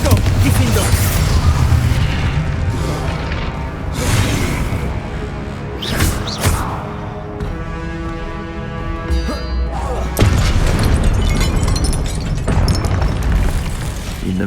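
A Confringo explosion spell goes off in a Harry Potter video game, with booming blasts and whooshing bursts over a dense, continuous layer of game music and effects.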